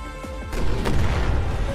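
Gunfire and blasts in the video game Final Fantasy XV, a muffled low boom arriving about halfway through over a steady game soundtrack, followed by sustained rumbling combat noise at moderate level.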